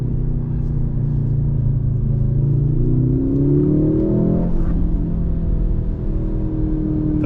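A 2023 Mercedes C63 AMG in Sport Plus mode accelerates, heard from the cabin as a steady, deep engine rumble that climbs in pitch through the revs before dropping back on a downshift.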